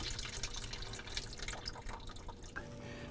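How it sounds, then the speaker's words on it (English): Water steadily draining and trickling out of the drain of an under-counter ice maker after the drain cap is removed, a continuous close splashing flow with no talk. "remove this drain cap for the water and wait for it all to completely drain out."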